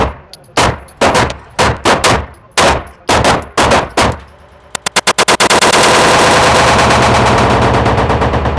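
Ten rounds from a Canik pistol fitted with a Legion compensator, loud close sharp shots fired at a measured pace, then a rapid burst trailing into sustained ringing noise.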